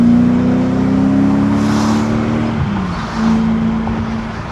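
BMW E30 with a V8 swap and a lightweight flywheel, revving steadily and then letting the engine fall back with a quick dip in pitch, heard close and loud with no talking.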